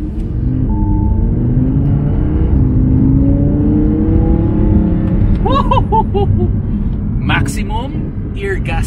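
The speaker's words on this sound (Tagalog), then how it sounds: "Let's drive this Audi R8." An Audi R8 V10 Plus supercar engine pulls away and rises in pitch through the gears, a loud steady roar heard from inside the cabin, with a couple of high tonal chirps and rattles near the end.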